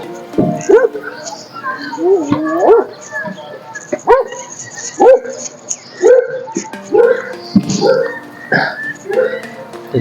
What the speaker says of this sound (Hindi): कुत्ता खैर भौंकदा है